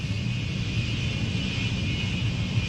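A military jet with tail code 62 taxiing at an air show, giving a steady, loud engine roar with a constant whine and no clear change in pitch.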